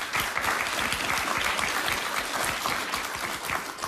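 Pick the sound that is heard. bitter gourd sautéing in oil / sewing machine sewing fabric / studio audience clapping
studio audience clapping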